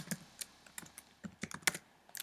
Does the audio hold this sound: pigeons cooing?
no